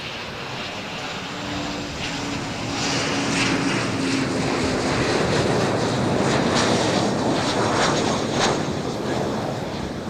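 A Qantas-liveried airliner at Adelaide Airport passes nearby with a steady, loud engine roar and broad wind-like rush that swells after a few seconds and holds to the end, with no talking.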